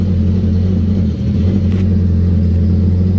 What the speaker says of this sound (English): That's what you call an 1800cc non-supercharged motor.